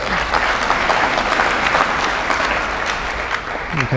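An auditory audience at an evening lecture event bursts into dense, sustained applause, loud and steady throughout, with scattered whoops and crowd noise mixed in and no clear talking over it.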